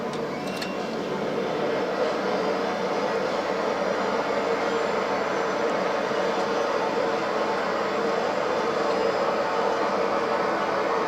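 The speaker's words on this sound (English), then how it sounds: "Reverse thrust." Boeing 737-800 reverse thrust during landing in a flight simulator, a loud, steady broadband roar that holds even and unbroken throughout, with a short click near the start.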